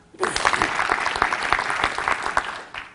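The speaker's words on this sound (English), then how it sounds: "if your answer is yes, I'd like you to clap your hands" A live audience claps hands together in a burst of dense, crisp applause for about three seconds, starting abruptly and thinning out at the end.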